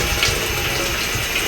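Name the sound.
water being drained from cooked chicken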